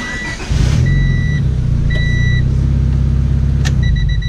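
A car engine cranks over with the clutch switch bypassed, starting with a short burst of starter whirring and then settling into a loud, steady rumble, accompanied by a few intermittent electronic beeps.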